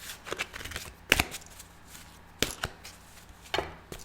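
A deck of tarot cards is shuffled by hand in short riffling bursts, about three brisk flurries with small taps between them, close and fairly quiet, without speech.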